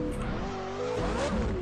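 A Ferrari pulling away in a video game, its engine note rising and falling through shifting tones with a tyre squeal, loud and close for a second and a half.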